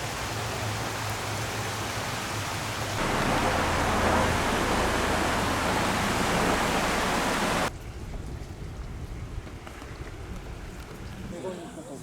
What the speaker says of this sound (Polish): Oczywiście burza nas złapała.